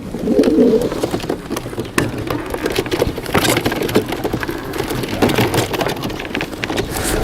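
Racing homing pigeons, long-distance champions from Saudi Arabia, coo softly in a loft over a steady patter like rain, with some faint bird calls mixed in and no talk.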